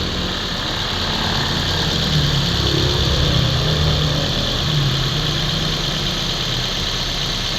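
A Mazda 3 with an overheating problem idles steadily while warming up, giving a continuous, even engine hum and rumble with no voices over it.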